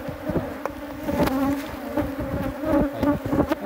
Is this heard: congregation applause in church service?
no